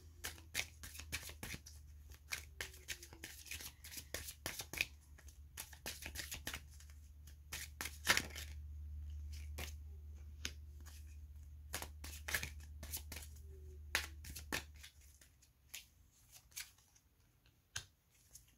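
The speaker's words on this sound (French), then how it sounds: "prenons des cartes pour le lien." Tarot cards are shuffled by hand in repeated crisp riffles and flicks, quiet and close, with short bursts spread over a low steady background hum.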